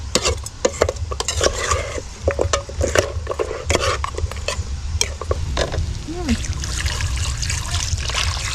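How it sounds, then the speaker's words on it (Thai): Water is poured into a cooking pot of mushrooms with sizzling and stirring around it. Clatters and scrapes sound close up, a trickling pour follows, and a voice is heard briefly. "เติมน้ำลงไปเลย"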